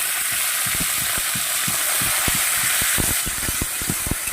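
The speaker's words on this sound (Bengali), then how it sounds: "চিংড়ি মাছটা একটু ভাজা হতে থাকুক" Prawns fry in hot oil with a steady hiss and frequent sharp pops and spits, close by and uninterrupted by voices, as for prawns with Malabar spinach.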